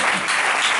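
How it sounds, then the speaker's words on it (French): Applause in a church congregation, a dense wash of many hands clapping filling the whole moment, steady and loud. "Est-ce qu'on peut applaudir pour cette date?"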